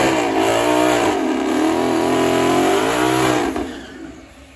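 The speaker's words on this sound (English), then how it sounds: "Corsa, we have their double X pipe with the active mufflers back here." Turbocharged Mustang GT with a Corsa double X-pipe exhaust and active mufflers revving hard, the engine note climbing, holding and sweeping up again before dropping away sharply at the end, loud and close.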